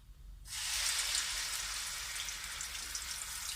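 Ground paste made from a medium onion hits hot oil in a wok and bursts into loud, steady sizzling and crackling that carries on evenly after the sudden start, close up with no talking.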